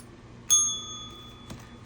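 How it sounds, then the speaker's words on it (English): A bright bell gives one sharp ding that rings out and slowly decays, followed a second later by a fainter second tap, close by in a quiet room. "ring the ding ding ding bell"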